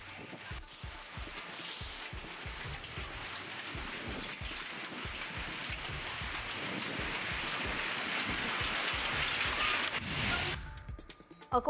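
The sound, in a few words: unseasonal rain with hail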